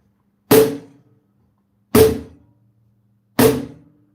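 Three separate clean strikes on a cajón, each a sharp percussive hit with a short decaying tone, evenly spaced about a second and a half apart with silence between them.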